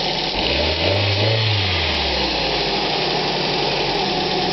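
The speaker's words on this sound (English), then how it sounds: "Hear the air filter working away." A Ford Focus 1.8 engine idle hums continuously with a low, even drone and broadband air filter intake rush, close and fairly loud, no voices.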